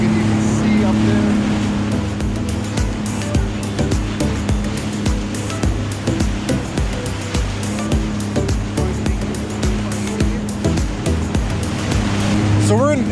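A Sea Doo GTX 155 personal watercraft holds at about 4,000 RPM against the Niagara River rapids, its engine droning loud and steady under rushing, churning water, with rhythmic thumps as it bucks.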